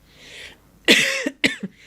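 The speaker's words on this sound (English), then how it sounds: "I can feel I'm about to cough" A person coughs twice in quick succession, close and fairly loud, after a brief soft breath.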